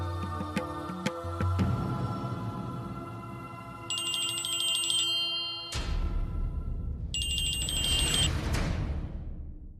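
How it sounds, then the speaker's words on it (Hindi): A phone rings with a repeating melodic electronic ringtone, bright tonal chimes in two bursts over a fuller musical background. "हेलो। फोन घेतला,"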